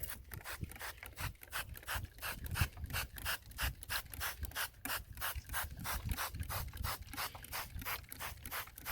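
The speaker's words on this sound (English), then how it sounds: "now we're going to spray this with just straight hydrogen peroxide." A spray bottle of hydrogen peroxide pumped rapidly over and over, producing a fast, even rhythm of short hissing squirts close to the listener.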